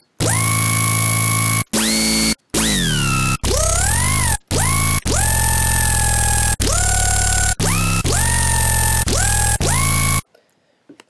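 A formant bass synth patch built in Massive plays loud, buzzing sustained notes with vowel-like sweeping formants, cut into short phrases with brief gaps, ending abruptly into near silence.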